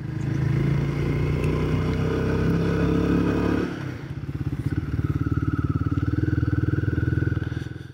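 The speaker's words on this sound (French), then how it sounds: "L'échappement que l'on connaît également sur l'Himalayan qui distille un son très agréable." A Royal Enfield Guerrilla 450 motorcycle idles with a deep, throaty exhaust burble, then drops briefly before settling into a rapid, even pulsing rumble close by.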